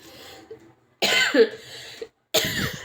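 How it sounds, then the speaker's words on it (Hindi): Two or three short, rough coughs close to the microphone, separated by brief silences. "हल्की हल्की सी खांसी आ रही है"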